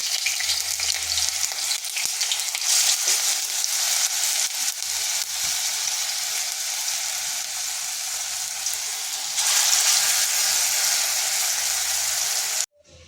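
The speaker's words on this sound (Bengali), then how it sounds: "মানে এগুলোকে ভেজে নেব।" Vegetables, cabbage among them, fry in hot oil in a kadai, giving a steady, loud broadband sizzle that holds for about twelve seconds, swells briefly near the end, then cuts off.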